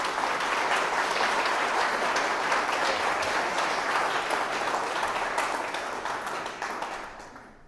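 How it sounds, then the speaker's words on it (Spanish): A church congregation gives a sustained, dense round of applause in honour of women, steady and loud throughout before tapering off at the end. "Y yo les voy a pedir que les demos un aplauso a las mujeres de la primera línea."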